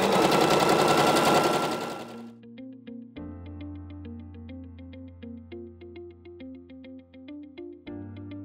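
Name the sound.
sewing machine stitching a skirt seam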